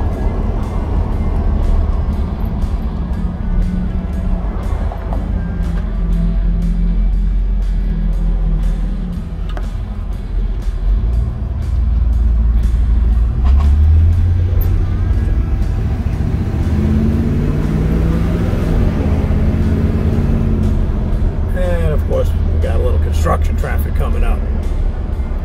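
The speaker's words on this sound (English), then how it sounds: "We'll take this one for a little ride. Smooth, mellow, not loud, not obnoxious." A 1968 Chevrolet Impala SS with a 327 275hp V8 and automatic transmission drives along with a smooth, mellow, low exhaust rumble, steady and close, swelling briefly midway, with talk over it.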